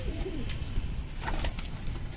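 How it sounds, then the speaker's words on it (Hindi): Pet pigeons feeding coo softly nearby amid steady low outdoor rumble, with a few brief rustles. "तो दोस्तों सारे कबूतर अभी इधर उधर खा रहे हैं।"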